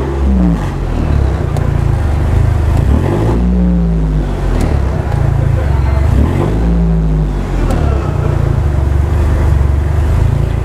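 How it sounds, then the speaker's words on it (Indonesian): A 1996 fourth-generation Honda Prelude with an H23 engine and a full stainless steel exhaust system runs with a loud, deep, steady drone, rising in a few revs over several seconds. "sekarang coba kita dengarkan suara dari mesin H23 ini ya"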